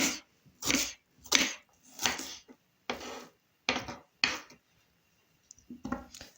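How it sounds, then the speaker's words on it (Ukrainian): An onion being diced into cubes with a kitchen knife: about nine sharp, irregular chops with short pauses between them, close and clear, with no talking. "Тепер буду працювати із цибулькою. Наріжу її кубиками."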